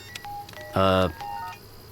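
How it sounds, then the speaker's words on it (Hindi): A phone rings with a short, loud electronic tone burst, with faint beeps just before and after it, in a quiet room. "इस वक्त किसका फोन है यार?"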